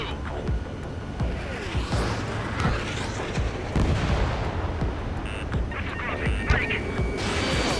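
A missile launch in the Ace Combat 7 flight game, a loud rushing roar with dense booming bursts and crackles over a continuous jet and air rumble.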